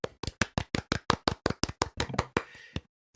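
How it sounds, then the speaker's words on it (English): A small group claps briefly on a podcast, about fifteen crisp, close claps in a quick irregular rhythm that tail off into a short scatter and stop. "Round of applause."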